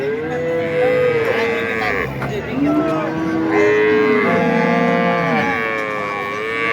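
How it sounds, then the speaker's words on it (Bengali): Dairy cows at a village cattle market in Ambari, Dinajpur, sold with their calves, give several loud, close moos one after another, with a faint crowd murmur underneath. "এখানেও আমরা আরেকটি গরু দেখছি"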